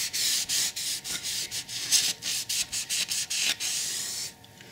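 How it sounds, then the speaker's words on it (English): An antibacterial wipe rubs a dusty model railway station platform in quick back-and-forth strokes, a close, raspy scrubbing in short rhythmic bursts that fades out at the end. "then just cleaning up the platform with an antibacterial wipe"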